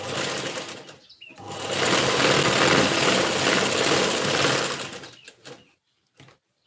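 A sewing machine runs a straight stitch along the waist of a princess-cut blouse front panel, a brief start, then a steady, close, busy whir for about four seconds before stopping, followed by light handling clicks.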